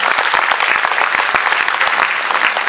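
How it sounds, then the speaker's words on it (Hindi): An audience at a foundation day and award ceremony claps continuously, a dense, loud wash of many hands with no voices standing out. "तो मैं चाहता हूँ ताली बजा के उन्हें आशीर्वाद तो आप दे सकते हैं।"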